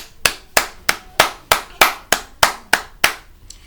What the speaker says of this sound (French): Bon, moi j'applaudis.